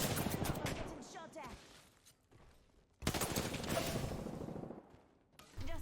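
Gunfire in an Apex Legends firefight: loud bursts of rapid shots come in two clusters with a short lull between, close and sharp, with a voice talking over parts of it.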